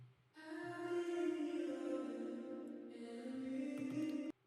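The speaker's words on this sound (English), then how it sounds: "Yeah, the hall reverb. It sounds like this." Sustained harmonic tone washed in a hall reverb, a smooth swelling pad that holds steady for about four seconds before cutting off abruptly, quiet and alone.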